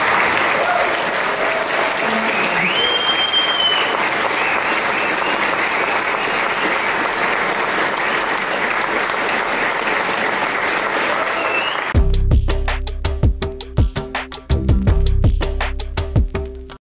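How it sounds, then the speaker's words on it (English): Audience at a Bitcoin conference in Amsterdam claps in a long, steady round that runs for about twelve seconds, then cuts abruptly to loud, punchy music with sharp beats. "give us one round of applause"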